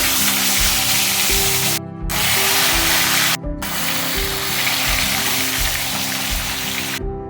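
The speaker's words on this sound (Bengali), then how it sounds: "বাকি মাছগুলো ভেজে নেব" Fish frying in hot oil in a pan, a loud spraying sizzle close by that breaks off briefly a few times, with stirring and a low background hum, no voices.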